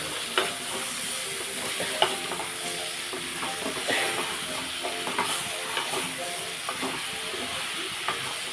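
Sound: frying vegetables in a pan

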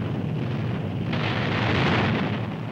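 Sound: Japanese torpedoes hitting the Yorktown, WWII film footage

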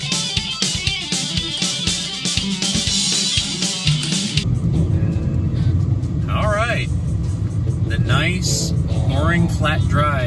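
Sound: CJ5 Jeep driving on the road

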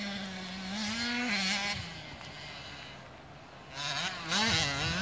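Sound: motocross motorcycles racing on a track

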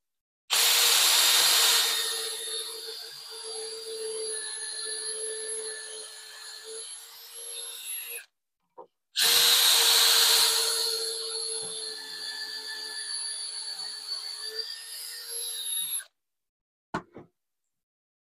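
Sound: drill boring pocket holes in wood with Kreg jig

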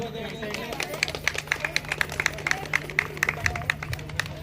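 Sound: women in the audience clapping

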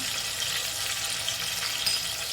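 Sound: tomatoes frying in oil in a pot

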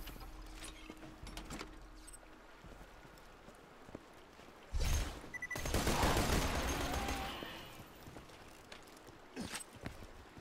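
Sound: gunfire unloading a clip in video game Borderlands 2

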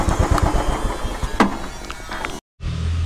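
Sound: motorcycle engine as the rider parks his bike

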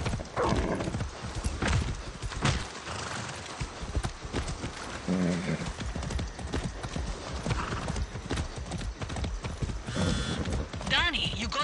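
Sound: horse hooves clip-clopping in the video game Far Cry 6

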